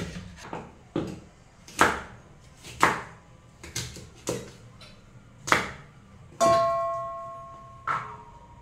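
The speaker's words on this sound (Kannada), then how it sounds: "ಇವಾಗ ಕೆಸುವಿನ ಎಲೆಯ ಬೇರನ್ನು ಕ್ಲೀನ್ ಮಾಡಿ ತಂದೆ. ಇನ್ನಿದನ್ನು ಕಟ್ ಮಾಡ್ತೇನೆ." A knife chops through taro root on a board in sharp, separate strokes, about nine irregular hits with short pauses between them, close and clear, with a brief metallic ring after one cut.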